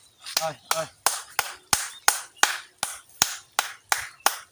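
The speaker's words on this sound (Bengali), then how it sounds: "তোমার হাতের তালি দিয়ে দিলে নাকি মাছ চলে আসে" Sharp hand claps beside a fish pond, about a dozen evenly spaced loud claps in a steady rhythm, with a brief voice near the start.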